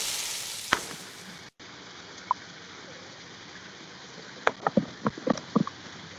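Steak sizzles on a grill with a soft steady hiss, broken by scattered pops and crackles that grow busier toward the end.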